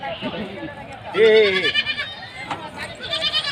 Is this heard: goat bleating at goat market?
yes